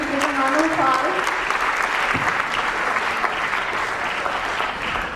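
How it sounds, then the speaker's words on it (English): Sustained audience applause from a crowd at a student union poetry slam, loud and steady throughout, with some voices and faint speech mixed in. "So please give them a round of applause."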